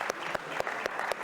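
Meetup audience in New Orleans clapping hands together in a short rhythmic sequence of evenly spaced sharp claps over a quiet wash of crowd applause.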